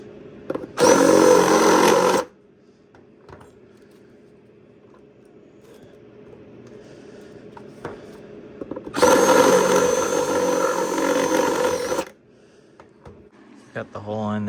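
Power drill boring a hole for an intake air temperature sensor on a 5.7 HEMI, two loud whirring bursts up close separated by a quiet stretch, with someone talking in between.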